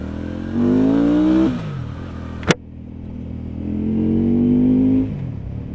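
A Benda Chinchilla 500 motorcycle engine revs up through a gear, drops sharply at the shift with a brief clunk, then climbs steadily again, loud and close with wind noise and no talk.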